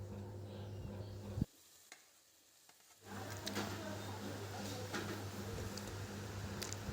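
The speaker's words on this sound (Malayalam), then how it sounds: "ഇനി നമുക്ക് ഇത് നല്ലോണം ഒന്ന് ഇളക്കി കൊടുക്കണേ" Curry leaves and tomato frying in a pan while being stirred: a steady close sizzle that drops out briefly, then returns with scraping stirring sounds.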